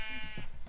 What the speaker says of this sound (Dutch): Ik lok nu wat schapen.